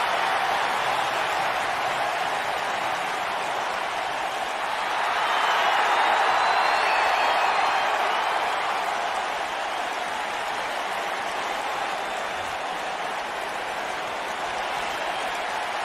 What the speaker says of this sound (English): Sounds to me, guys, like this crowd is ready to get this night started.